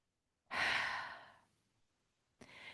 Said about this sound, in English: It's 2 intakes quick and then a long out.